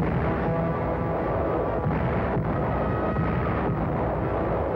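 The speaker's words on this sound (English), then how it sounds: "105-millimeter guns open a barrage" 105-millimeter artillery guns fire a barrage in an old newsreel battle scene, producing a dense, continuous roar of blasts and rumbling with no clear gaps, loud and unbroken throughout.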